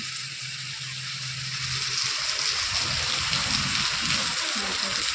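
Dense, continuous rain hisses and splatters nearby, building slightly after the first couple of seconds.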